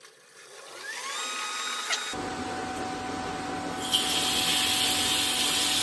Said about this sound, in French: On démarre la pompe.